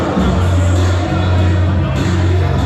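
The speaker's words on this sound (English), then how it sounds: "You can hear the ovation of the crowd" A wrestling crowd in Prescott, Arkansas gives a sustained ovation as the wrestler El Rey makes his entrance. Steady, loud cheering and roaring fills the arena, with entrance music and commentary talk mixed in.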